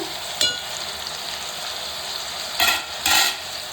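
Onion and ginger paste frying in a pan, a loud continuous hiss with a short spatula scrape early on and two louder scraping stirs near the end.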